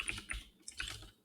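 Quick bursts of typing on a computer keyboard, soft clustered key clicks close up and quiet, with no voices.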